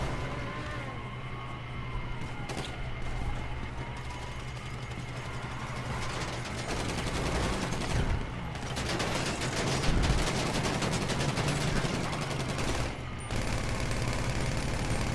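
Gunfire in a video game, sustained loud volleys of shots layered over a droning engine rumble, continuous and close throughout.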